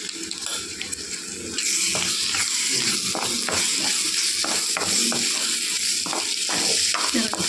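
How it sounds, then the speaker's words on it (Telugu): Prawns frying with masala in a pan for an Andhra-style prawn fry, a steady loud sizzle that grows louder partway through, with repeated clicks and scrapes of stirring, close and continuous. "మసాలా వేసుకుని వేపుకోవాలండి."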